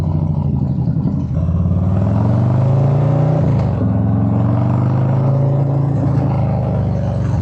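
A motorcycle engine runs close by with a deep, steady throb, rising in a couple of revs before settling back to a strong, even drone.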